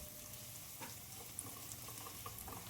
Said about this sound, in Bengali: গ্যাসের ফ্লেমটা হাই টু মিডিয়াম করে পেঁয়াজগুলোকে ভেজে নিচ্ছি।